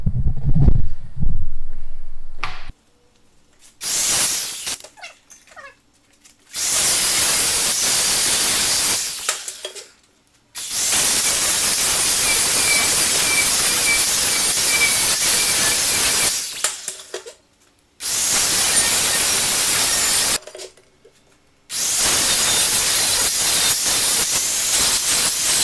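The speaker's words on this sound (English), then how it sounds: "So I'm just going to grind this one up real quick," An angle grinder grinds metal while a custom metal, aluminum and stone side table is built, running in several loud, steady hissing bursts separated by short pauses.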